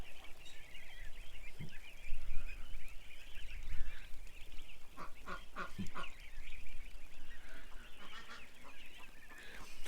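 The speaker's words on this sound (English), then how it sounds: "I think these ducks, guys, this year, it's going to be awesome when they get bigger" Ducks quack and honk in a noisy outdoor flock, bursts of calls rising and falling over several seconds at moderate distance against a continuous background hiss.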